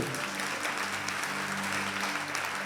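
A church congregation at a Sunday worship service claps together in praise, producing dense, sustained applause throughout, with a faint hum of voices or music underneath.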